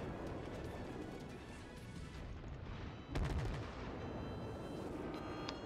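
Warship guns firing in World of Warships gameplay, a dense rumbling battle bed with one sharp, heavy boom just past three seconds, distant and fairly quiet overall, no talking over it.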